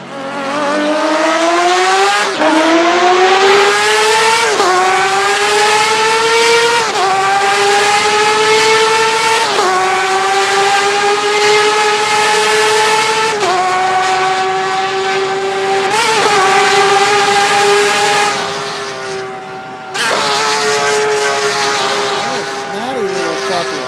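A Porsche engine revs hard again and again, each rise climbing in pitch before dropping back, loud and close with brief pauses between the sharp, snappy bursts.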